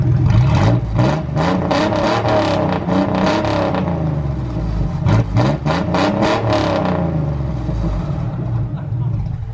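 A cheap truck with its exhaust sawed off revs loudly and raggedly nearby, with rising and falling throttle bursts that settle toward idle, while people talk over it.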